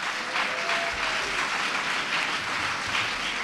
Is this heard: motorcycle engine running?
no